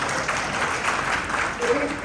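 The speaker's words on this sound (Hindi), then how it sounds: "ताली बजाइए" Brief burst of audience clapping at a spiritual lecture, a dense wash of many hands at moderate loudness, swelling slightly toward the end.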